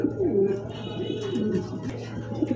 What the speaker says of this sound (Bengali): এইটা হলো নর কবুতর